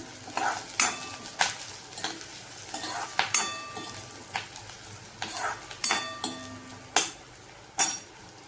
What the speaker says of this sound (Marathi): कांदा चांगला फ्राय करून घ्यायचा तेलामध्ये